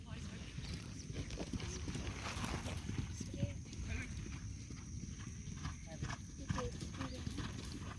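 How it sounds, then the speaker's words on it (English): Horses gallop at a cavalry riding unit, quick rhythmic hoofbeats thudding on the ground at a moderate distance, faint and continuous under a voice talking throughout. "Now the horse is galloping."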